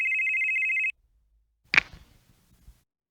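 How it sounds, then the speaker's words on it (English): A phone ringing in a Shadowrun actual-play session, a steady electronic ring held for about a second before cutting off, followed by a short clatter and low thumps. "you can hear his phone start ringing"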